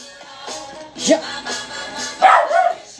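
Puppy barking and yipping indoors, a few short high-pitched barks in uneven bursts, close and fairly loud, with small whimpering sounds between.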